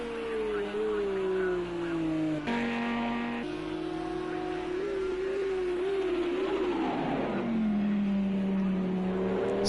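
A Porsche GT3 race car engine in Project Cars 2 at Road America drones loudly and steadily, its pitch climbing through each gear with brief shift dips before easing down toward the end, with a commentator talking over it.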